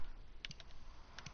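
A handful of quick, light keystrokes on a computer keyboard, two short clusters of soft clicks close by, quiet against faint background noise.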